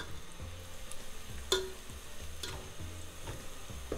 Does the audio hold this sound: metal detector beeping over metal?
no